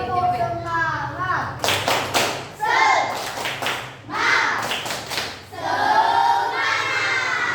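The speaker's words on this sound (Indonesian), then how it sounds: "Coba tepuk semangat, bisa tepuk semangat?" A classroom of children claps a rhythmic spirit clap, with bursts of sharp, loud hand claps in patterned groups mixed with a teacher's voice and children chanting.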